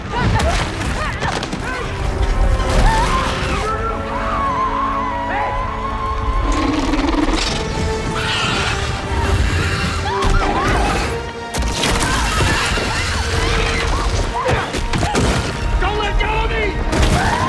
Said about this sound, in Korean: 폭발 카운트가 시작되자 포탈도 반응하기 시작합니다.